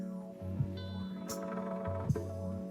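An original music sample later chopped for a song plays quietly on its own, with sustained melodic tones, a short repeating bass figure and a couple of soft percussive hits.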